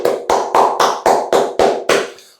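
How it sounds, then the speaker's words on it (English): Close, loud hand clapping forms a round of applause: about eight slow, evenly spaced claps, each with a short ringing tail, and the last one fades out. "Jack Jones, round of applause."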